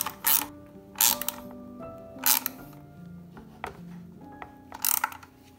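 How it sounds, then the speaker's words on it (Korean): A ratchet tool tightens a part on an Ygozin 7320 stepper exercise machine in short bursts of quick clicking, four or five separate ratcheting strokes with brief pauses between, close by and fairly quiet. "자, 공구를 조여 주실 때는 유격이 없도록 최대한 꽉 조여 주세요."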